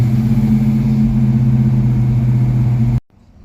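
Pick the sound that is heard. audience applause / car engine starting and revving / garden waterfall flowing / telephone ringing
car engine starting and revving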